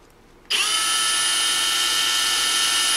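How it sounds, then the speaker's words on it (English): A variable speed drill spins up abruptly from quiet and holds a steady, high-pitched whine while rounding off a corner on a Smith & Wesson M&P 9mm pistol part, running close and alone. "I have a variable speed drill, so I'm able to control the speed with the trigger"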